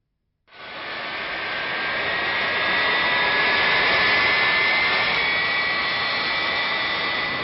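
An airplane jet engine spools up from silence into a loud, steady whine and roar that swells and holds for several seconds, close and unbroken, with no talking.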